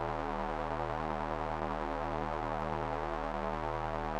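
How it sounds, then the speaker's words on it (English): Arturia MiniFreak V synthesizer in Super Unison mode with a bandpass filter, gain and resonance, holding one thick, sustained chord-like tone that stays steady and fairly quiet throughout with no breaks. "Now let's turn on the Super Unison mode."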